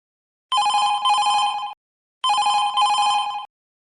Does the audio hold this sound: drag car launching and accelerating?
no